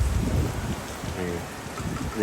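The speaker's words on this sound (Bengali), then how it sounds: "দেখেন বৃষ্টি হচ্ছে তারপরও তাদের গল্প" Rain falls steadily in an outdoor setting, a broad continuous wash of noise that holds loud through the short stretch, with some low rumbling underneath and no clear speech.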